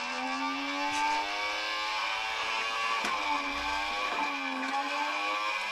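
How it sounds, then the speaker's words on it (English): A Hornby toy jet engine starts up with a close, steady electric whine, a buzzing harmonic drone that dips and recovers in pitch a few times without stopping. "this is a Hornby jet engine. You can hear it starting up."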